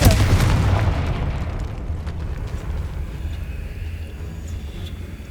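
A heavy blast from the Confringo spell in Hogwarts Legacy erupts loudly at the start, then rolls into a long rumbling decay that stays fairly loud to the end.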